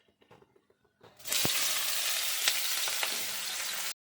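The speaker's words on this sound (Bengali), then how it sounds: "এবার দেখুন আমি পেঁয়াজ দিচ্ছি।" Onions tip into hot oil in a pan for Bengali chicken kosha and burst into a loud, close sizzle. The frying hisses steadily for about three seconds after a few faint clinks, then cuts off.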